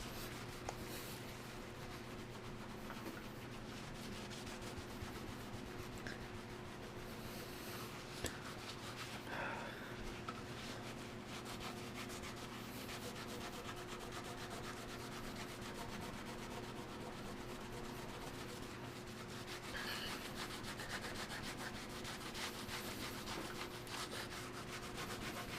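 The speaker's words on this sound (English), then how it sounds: "some of the adhesive is rubbing off" Adhesive being rubbed and scrubbed off a DDR arcade cabinet gives a continuous, moderately quiet scrubbing and rubbing over a steady low hum, with occasional louder strokes and no talk.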